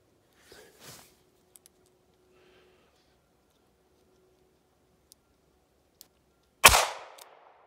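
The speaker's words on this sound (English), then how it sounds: "Shooting from about 5-6 feet away." A single .32 H&R Magnum round, an 85 grain jacketed hollow point, fired from about 5-6 feet during a chronograph test. It lands as one sharp, loud, close report with a ringing tail near the end, preceded by a few faint clicks.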